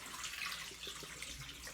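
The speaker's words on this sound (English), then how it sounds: "I'm going to drain this water off" Water drains from a kitchen sink in a steady, faint gurgling rush, continuous and unbroken, with no voices.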